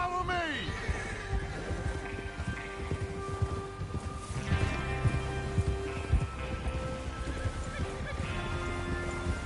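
Horses whinny loudly in Red Dead Redemption 2, one long neigh up front and more calls later, over a steady bed of clip-clopping hooves, rustle and background game ambience.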